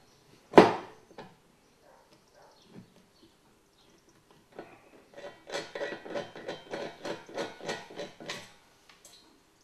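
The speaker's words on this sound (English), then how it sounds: "Same thing again to install the countersunk riv nuts in the frame, but on this tool we put a 4mm washer on the mandrel first." A hand riv nut tool squeezes countersunk riv nuts, with a 4mm washer on the mandrel, into a steel car frame: one sharp click, then a run of about a dozen quick, even ratcheting crunches, close and alone.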